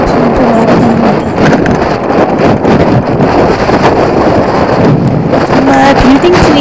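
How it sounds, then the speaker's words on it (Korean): Strong gusting wind between high-rise buildings at Haeundae LCT, a loud continuous roar buffeting the microphone, with faint background sounds beneath. "빌딩 높은 곳에서 바람 많이 불면 좀 그랬는데 진짜 여기는 너무 심하게 불어서 거의 완전 태풍입니다"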